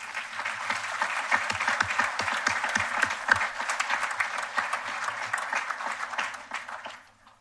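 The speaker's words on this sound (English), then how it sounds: "Let's give them a round of applause." Sustained applause from a graduation ceremony audience at Bermuda College, a dense wash of many hands clapping steadily before thinning out and fading over the last second.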